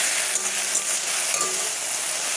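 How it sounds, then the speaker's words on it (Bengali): Maggi noodles and egg sizzle steadily in a hot frying pan, a loud continuous hissing crackle with faint scrapes of stirring and no pauses. "ডিম আর ম্যাগি সমেত একটু ভেজে নেব,"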